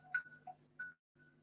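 Telephone ringtone from an incoming call during a live gardening phone-in show, a short electronic melodic ring with two bursts of tones, fairly faint and alone, with no talking.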